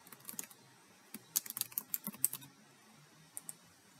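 Quiet keystrokes on a computer keyboard while setting up an automation in Salesforce Marketing Cloud, coming in short irregular bursts of clicks with pauses between, close and soft, with no talk.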